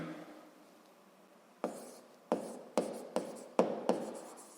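Pen strokes on paper while writing out a physics solution: a few soft scratchy marks, then a run of sharper taps and strokes in uneven rhythm, close and clear, with no voice.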